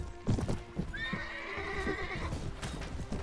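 In the Mount & Blade Warband video game, a horse's hooves clip-clop while it gives a long, loud whinny at close range. There is no talk.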